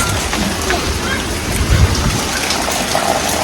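Rain falls steadily, giving a dense, even hiss that stays loud and unbroken throughout, with a faint low rumble briefly underneath.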